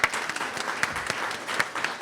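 Audience applause for a panel of speakers at a university institute launch event, a steady wash of many hands clapping with a few sharper individual claps standing out, moderately loud and close throughout.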